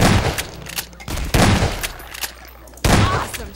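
Gunfire in Half-Life 2 Episode 1 crackles in several loud bursts, close and sharp, separated by brief lulls with rumbling background noise.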